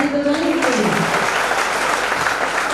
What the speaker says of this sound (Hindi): एक बार जोरदार ताली बजाएं इनके लिए।